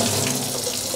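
Enamel pieces rinsed under a running tap, a steady close splashing stream of water filling a sink for a full second with no talking.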